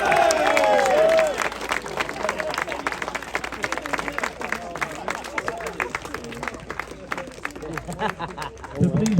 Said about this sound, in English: So please, one last round of applause for our Pro-Am.